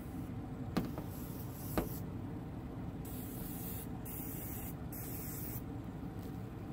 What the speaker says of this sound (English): I shook the can up and just sprayed a little bit into each vent on the passenger side.